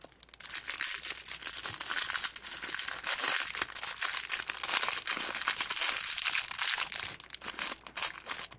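Plastic packaging around a scented Hello Kitty keychain is torn and crinkled open, producing a steady, close run of crackling and crumpling rustles that lasts several seconds with no voices.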